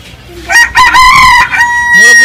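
A rooster crows loudly and close by at a shrine, a single long drawn-out call that rises and holds before tapering off.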